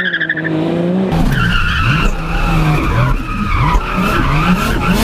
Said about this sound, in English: This is a drift car.